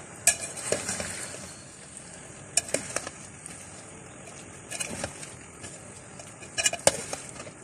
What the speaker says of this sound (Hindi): आखिर में इसके अंदर 3 टेबलस्पून चिली गार्लिक सॉस डालेंगे और अच्छी तरह से इसको मिक्स कर लेंगे